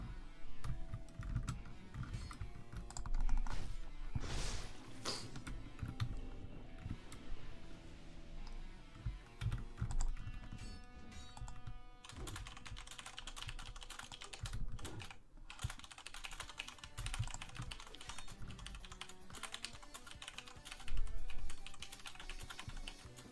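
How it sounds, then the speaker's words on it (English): Steady computer keyboard typing runs throughout during a live stream, with dense key clicks layered over background music and no clear talk. "You're typing a lot."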